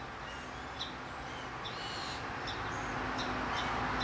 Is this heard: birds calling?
yes